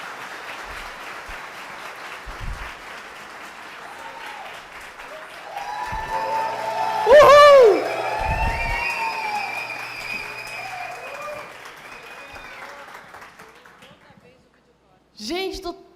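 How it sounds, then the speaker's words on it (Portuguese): Studio audience applause welcoming Camila Farani, a Shark Tank Brasil investor, on stage: steady clapping throughout that swells with cheers in the middle, then fades out. A voice speaks briefly at the very end. "Recebam com uma salva de palmas"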